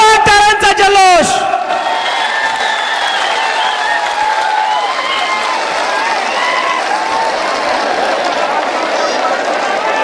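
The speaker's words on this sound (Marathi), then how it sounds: "एकदा जोरदार टाळ्यांचा जल्लोष" A large crowd at a Maratha rally in Beed breaks into sustained applause and cheering right after a brief amplified voice, a dense wash of clapping that fills the open-air gathering.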